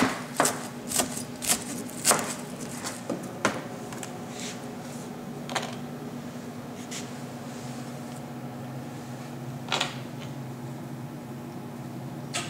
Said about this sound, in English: Take a little bit of flat leaf parsley and just chop that up.